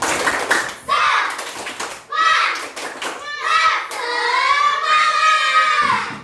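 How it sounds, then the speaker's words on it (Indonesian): Children in a classroom clap a short rhythmic spirit cheer, sharp clustered claps mixed with their loud chanting voices, with bursts of group clapping between the shouted lines. "Tepuk semangat."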